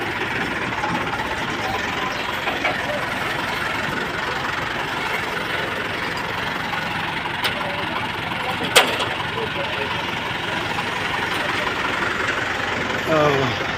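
A Suzuki Freedom car's engine idles steadily throughout, a continuous low running hum with a brief click partway through and faint background noise.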